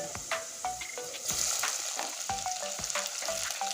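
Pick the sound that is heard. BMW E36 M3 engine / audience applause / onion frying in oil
onion frying in oil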